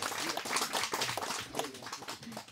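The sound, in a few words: audience applause for village head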